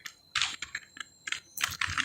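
Computer keyboard typing while laying out a beginner's flyer design: bursts of quick, close key clicks in short irregular runs separated by brief pauses, with no talking.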